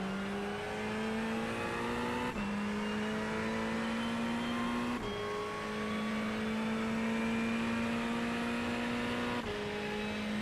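Ferrari 488 GT3 Evo racing engine on a lap of the Hungaroring in a racing video game, a loud continuous high-pitched drone rising steadily through each gear, with brief dips at upshifts roughly every two to four seconds and no talking.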